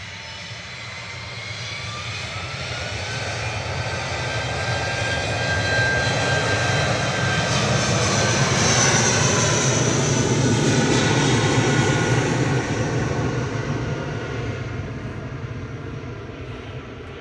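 A British Airways jet takes off at Manchester Airport, its engine roar swelling to a loud, sustained peak with a rising whine overhead, then gradually fading as it climbs away.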